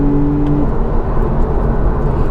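A Porsche 911 Targa 4S of the 991 generation, in sport mode and second gear, accelerates hard toward 6,000 rpm with a loud, steady engine roar that continues without a break.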